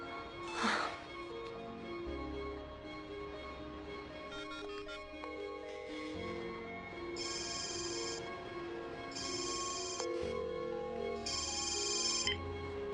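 A mobile phone rings in bursts, its melodic ringtone sounding several times in a quiet room before stopping unanswered, with no talking.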